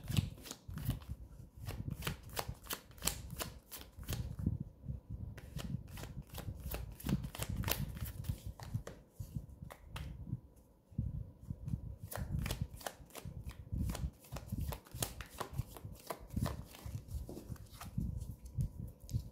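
Tarot cards shuffled by hand in long bursts of rapid riffling and crisp slapping, loud and close, broken by short pauses, with no talking.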